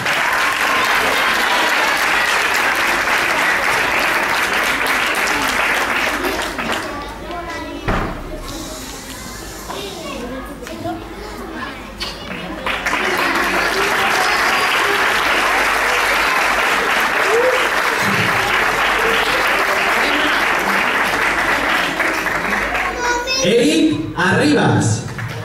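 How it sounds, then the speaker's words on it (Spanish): Loud applause from an audience at a school graduation ceremony for graduate Sofía Arévalo, sustained clapping that dips briefly midway and then resumes, with children's voices and chatter mixed in. "Un fuerte aplauso para ella!"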